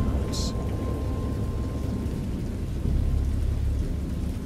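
Steady rain hisses over a deep, continuous rumble of thunder in a stormy sound effect, with a low roll swelling slightly partway through and a brief higher crackle early on, all dense and fairly loud.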